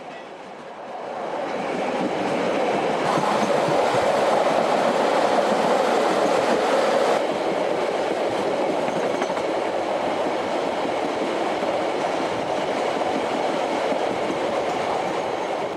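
A long coal train with two diesel locomotives and 24 wagons rumbles steadily past close by, a broad roar with faint rhythmic clatter of wheels, sustained throughout with no talking.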